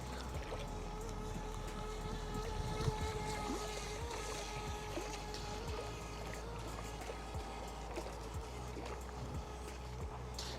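A Volantex Vector 30 mini RC boat runs on a lake, its small motor whining steadily with a faint constant tone amid water and wind noise, heard from a distance.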